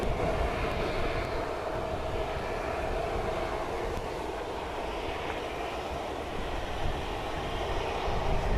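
A jet aircraft taking off at Manchester Airport gives a steady, loud, broad engine roar that holds through the whole stretch, heard from a distance with no talk.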